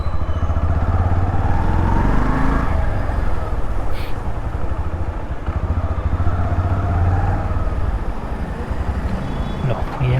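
A delivery rider's motorcycle on a night shift, its engine running steadily close by with a throaty low drone that briefly revs and settles, continuous and fairly loud throughout.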